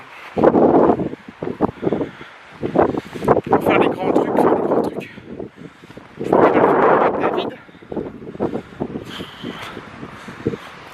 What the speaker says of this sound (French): Trop de vent.